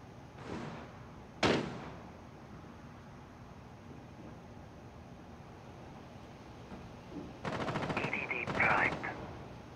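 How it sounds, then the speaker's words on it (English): Rainbow Six Siege gunfire coming in through a window: two sharp isolated shots early on, then dense bursts of rapid automatic fire near the end, loud against a quiet, hissy background. "They're firing in through the window."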